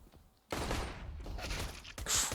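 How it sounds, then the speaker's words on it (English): Bursts of gunfire during a competitive Counter-Strike: Global Offensive match on the Inferno map, starting abruptly after a quiet moment and continuing as a loud, dense exchange of shots. "It's an awkward firefight."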